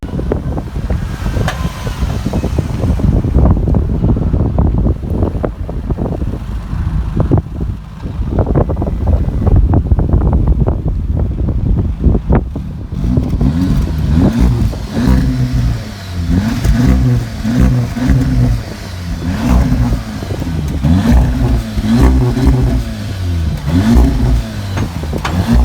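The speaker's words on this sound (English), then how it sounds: "So I'll do some revs from the outside" An Audi S3 saloon's engine revs from outside the car, rising and falling in repeated throttle blips over a rumbling idle, with gusts of wind buffeting the microphone early on.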